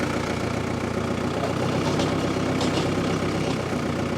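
A tractor engine runs steadily with the PTO engaged and RPMs lowered while digging, a constant close mechanical drone without pauses or talk.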